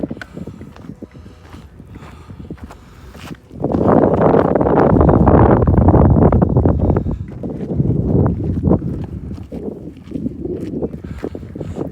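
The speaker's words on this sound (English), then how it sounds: "I'm like digging this wind, even though I complained about it at first." Wind on a desert hiking trail in Valley of Fire State Park, light rustle at first, then a loud sustained gust roaring against the microphone before easing into steady buffeting.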